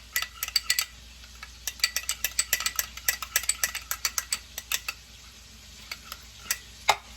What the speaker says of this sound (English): Let's mix everything together.